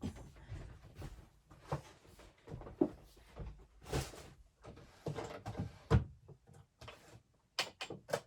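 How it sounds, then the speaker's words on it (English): Someone at a craft table opens a drawer while working on a tall skinny junk journal. Scattered wooden clunks, knocks and slides follow one another unevenly at close range, with short quiet gaps between them. "Maybe I'm going to the drawer."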